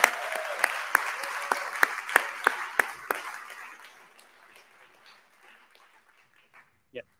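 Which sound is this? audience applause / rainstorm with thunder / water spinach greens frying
audience applause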